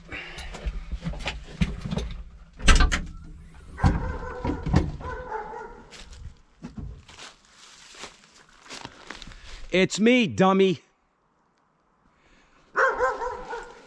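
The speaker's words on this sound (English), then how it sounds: "I don't know what the heck that dog's barking at." A dog barks in short bursts near a pile of reclaimed bricks, mixed with footsteps and someone talking over it. A clear, sharp bark rings out near the end.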